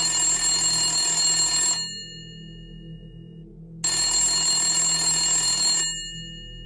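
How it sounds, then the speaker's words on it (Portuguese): A telephone rings loudly and close by, two long electronic trills separated by a pause of about two seconds, with nothing else heard. "O telefone toca e você vai atender."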